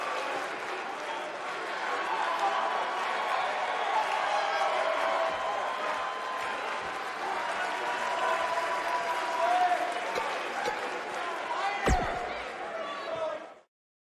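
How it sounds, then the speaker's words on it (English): A wrestling arena crowd in Nashville applauds and cheers in the WWE 2K19 video game, a dense, steady roar of clapping that holds loud for over thirteen seconds, with a sharp slam near the end before it cuts off. "I think this Nashville crowd is in awe over witnessing such an incredible performance."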